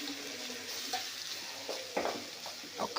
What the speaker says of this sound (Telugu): ఇప్పుడు ఈ కొబ్బరి అందులో వేసేసి